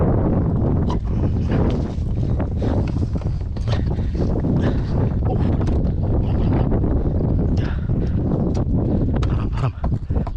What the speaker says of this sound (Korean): 바람은 무너지게 불고